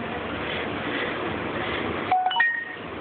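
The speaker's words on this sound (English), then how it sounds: "My phone is still going off." Mobile phone notification alerts going off, a short burst of bright chiming electronic tones near the end, cutting in over steady broadband noise.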